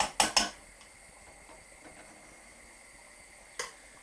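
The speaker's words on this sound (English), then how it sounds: "So we're going to stir that flour in." A whisk or spoon clinks quickly against a pan as flour is stirred into melted butter for a lasagne sauce, a rapid cluster of metallic taps at the start, then quiet scraping and one more clink.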